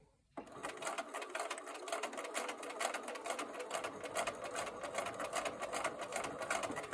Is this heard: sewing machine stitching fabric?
yes